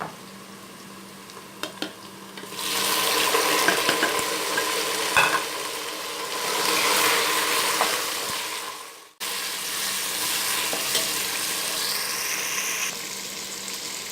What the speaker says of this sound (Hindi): टमाटर डालने के बाद हम 7 से 8 मिनट तक इसको दरमियानी आंच पर भूनेंगे